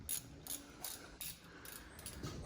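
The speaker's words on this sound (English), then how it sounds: "taking off the first bolts, and luckily they're not seized" A hand ratchet working loose header bolts on a Ram R/T 5.7L Hemi, giving faint, quiet mechanical clicking in short repeated bursts about every half second.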